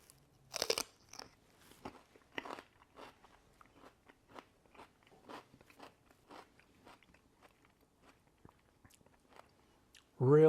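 Someone eating homemade no-oil hummus, with soft close chewing and crunchy bites in scattered irregular bursts, faint overall, and a brief loud vocal sound at the very end.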